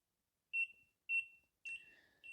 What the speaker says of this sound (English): you'll get the constant beeping